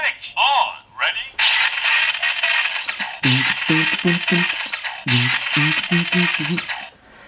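Loud, close electronic sound effects from a Kamen Rider Fourze DX Meteor Driver toy belt: warbling synthetic tones and buzzy, crackling electric zaps repeating in bursts.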